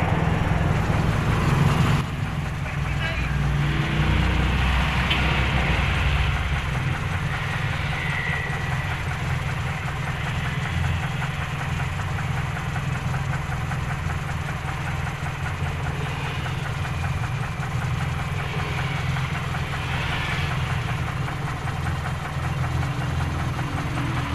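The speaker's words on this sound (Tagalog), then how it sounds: "Silipin lang natin yung kanyang makina habang umaandar" A Toyota 3A engine running in an owner-type jeep, a steady low idle with a faint rhythmic knock, heard close up and continuous throughout with no talking.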